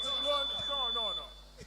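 Electronic quiz competition buzzer gives a steady, high, sustained tone held for over a second, while people talk and a low hum runs underneath.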